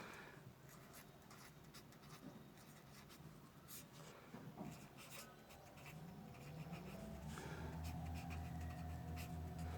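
Chalk or marker writing on a board during a physics lecture, a steady scratchy stroking sound running throughout, close and moderately loud with room hum, with no talking.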